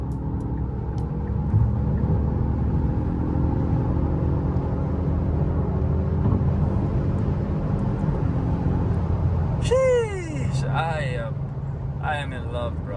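A 2020 Genesis G70 pulls hard under a floored pedal, with a loud, steady engine and road rumble filling the cabin. Near the end, excited voices break in over the fading drone.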